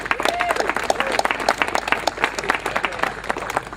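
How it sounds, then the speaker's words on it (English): An audience gives a big round of applause at a property demolition event, dense rapid clapping filling the space steadily and loudly for several seconds. "Could we give him a big round of applause?"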